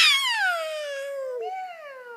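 A voice imitates a cat's meow, one long drawn-out call that starts high and loud and slides downward, with a brief upward lift near the end, heard alone.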